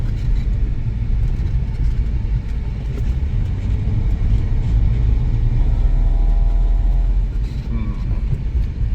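A BMW E46 driven at full throttle with the wheels spinning, heard from inside the cabin as a loud, steady low engine rumble that runs the whole time while people talk over it.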